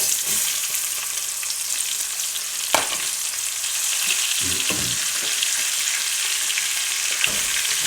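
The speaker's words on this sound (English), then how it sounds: "All right, so let's put our onions in now." Onions sizzling in a hot oiled pan, a steady close hiss of frying throughout with a few soft stirring knocks and scrapes.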